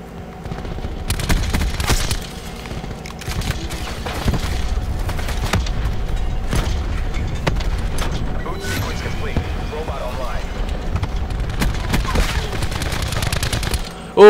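Sustained gunfire and bursts from the Black Ops 4 video game, with a heavy grenade blast among repeated sharp shots and a loud boom at the very end, dense and continuous throughout.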